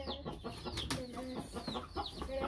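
A young hen clucks repeatedly at close range in a rapid, uneven series of short calls with faint farmyard background.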